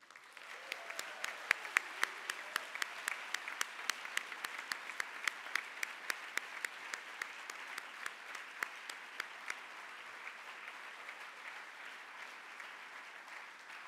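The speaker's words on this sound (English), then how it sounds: "You deserve the loudest round of applause." Applause at an INSEAD EMBA graduation ceremony, a steady wash of clapping from a large audience with sharp individual claps standing out, sustained throughout and easing slightly toward the end.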